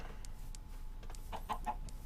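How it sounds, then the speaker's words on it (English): Minecraft chickens cluck in a short game scene, a few soft, brief clucks spaced irregularly over a low steady background hum, fairly quiet and with no talking. "And there's another chicken."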